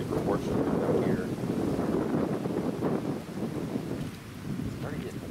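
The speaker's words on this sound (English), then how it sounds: "It's starting to get windy." Wind on a disc golf course in Cedar Hill, Texas buffets and rumbles against the microphone in uneven gusts, loud and close, with no voices.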